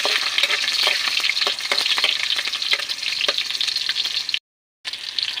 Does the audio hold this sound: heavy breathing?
no